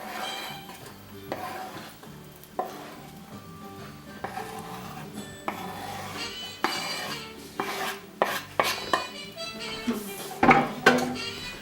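Metal utensils clank and scrape against a frying pan as chopped onion goes into hot oil, a series of sharp knocks with a faint sizzle underneath.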